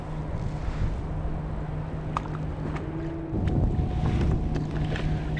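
Wind gusts buffet the microphone on a bay during a bass fishing outing, a constant low roaring rumble that swells louder toward the end, with faint water and boat sounds underneath.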